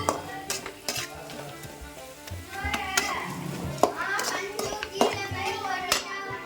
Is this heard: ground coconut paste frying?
yes